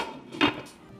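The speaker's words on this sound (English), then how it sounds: "I'm gonna put a lid on the top" A lid set down on a cooking pot gives a single short, close knock with a brief ring, then quiet.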